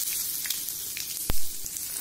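Onion frying in oil with turmeric and popped mustard seeds, a close, even sizzle with a sudden loud burst partway through.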